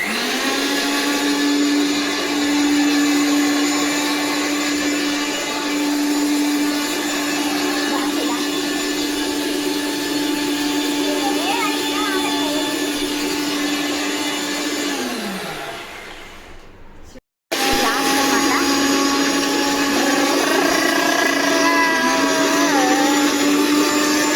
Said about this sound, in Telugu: ఇలా టమాటోస్ మెత్త అయ్యాక మనం మిక్సీ జార్లోకి ట్రాన్స్ఫర్. ఇప్పుడు మనం గ్రైండ్ పట్టుకోవాలి